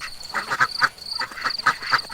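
A cartoon duck quacks in a short burst of about seven or eight clipped quacks, moderately loud and close, within an animated Bengali folk tale about a fox stealing ducks.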